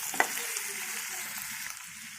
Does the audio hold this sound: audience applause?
no